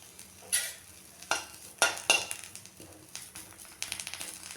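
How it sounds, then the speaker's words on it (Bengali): Neem leaves dry-roast in a hot pan, making intermittent scraping and stirring strokes with light crackles. The sounds come in irregular bursts that quicken near the end, over a quiet background. "নিম পাতাগুলো আমি শুকনো খোলায় ভেজে নেব,"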